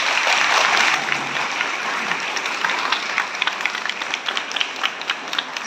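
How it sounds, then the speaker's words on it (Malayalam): An audience applauds after an Ottan Thullal performance, a dense, steady wash of clapping from many hands that starts loudest and eases slightly while staying full throughout. "ഒരു നല്ല കയ്യടി"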